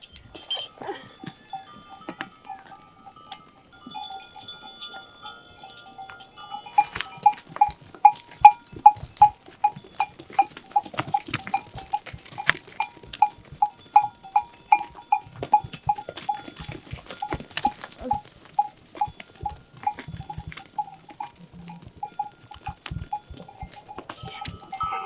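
A flock of sheep and goats moves along with many small bells ringing continuously and clinking in a loose, irregular rhythm, with occasional bleats mixed in across a long open-air stretch.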